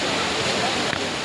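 A small waterfall rushes with a steady, full hiss of falling water close by, a continuous wash of noise with no pauses.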